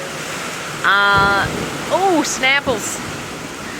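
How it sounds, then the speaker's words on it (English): Heavy rain pours steadily onto a barn porch roof in a dense, even hiss, with a voice speaking briefly over it and a few animal-like squeals. "But it is raining profusely and we are not getting wet, baby."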